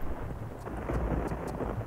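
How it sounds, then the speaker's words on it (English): A thunderstorm in the video game Tomb Raider IV: The Last Revelation, heard as a steady, dense rumble of rain and wind with low thunder swelling through, close and fairly loud, with no voices. "damn storm."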